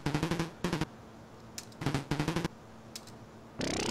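Rapid bursts of computer keyboard typing in a typing game, quick mechanical clicks in several short runs separated by pauses, with occasional chimes and a rising electronic tone at the end.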